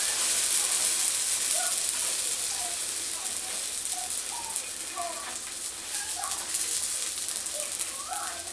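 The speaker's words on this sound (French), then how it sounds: "Et on va faire la cuisson sur le second côté." Batbout, a semolina flatbread stuffed with minced meat, sizzling in oil as it cooks on its second side, a steady bright hiss with faint clicks throughout and no talk over it.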